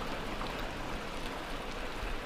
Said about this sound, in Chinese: 猛烈的一层雨扑面而来了